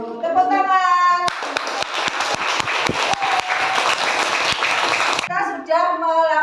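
Elementary school pupils clap together in a classroom, a dense burst of hand claps lasting about four seconds, with a teacher talking just before and after it.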